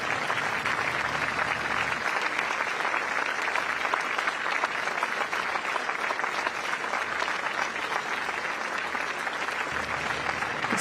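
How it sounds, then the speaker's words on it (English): A crowd gives sustained applause as incoming Prime Minister Lawrence Wong arrives with his wife on the Istana grounds in Singapore, a dense, steady clapping that stays even and loud throughout. "A round of applause now as incoming Prime Minister Lawrence Wong arrives on the Istana grounds"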